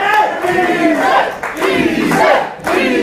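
A British wrestling crowd roars and cheers loudly at a charity show, sustained chanting and yelling in surging waves with brief dips, filling the hall throughout.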